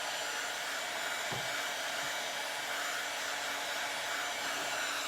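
A hair dryer blows with a constant, loud whooshing hum, running steadily without pause.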